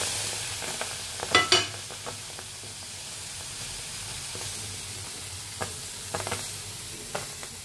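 Red chillies and garlic hit a hot wok with a soft, continuous sizzle, punctuated by a few sharp clattering stirs and scrapes of a utensil.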